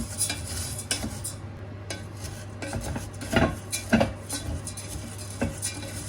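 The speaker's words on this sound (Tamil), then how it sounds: "நல்லா கருப்பாகும் வரை நாங்கள் வறுத்து கொண்டே இருக்கணும்" Coconut shell pieces roasting in a pan until black, stirred with a utensil that clinks and scrapes against the metal in irregular knocks over a low, faint sizzle.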